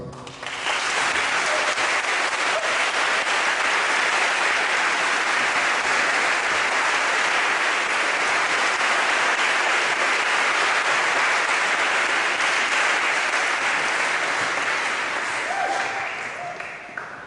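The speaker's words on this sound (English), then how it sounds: "I'd like you to give him a round of applause that's kind of worthy of the journey he's made from America" A London lecture audience gives sustained, dense applause to welcome Charles Eisenstein, a full crowd clapping steadily for about sixteen seconds before it fades.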